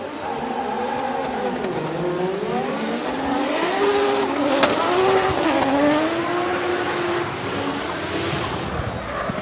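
Drift cars sliding through a corner at Okayama International Circuit during a Formula Drift Japan round, with loud, sustained engines revving and wailing over long tire squeals and skidding, and a commentator talking over the noise.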